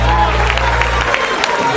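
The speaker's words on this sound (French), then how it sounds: "Allez, acclamez très très fort" Audience at a live stand-up comedy evening applauding and cheering, a steady wash of clapping and crowd noise, with a host's voice talking over it at the start.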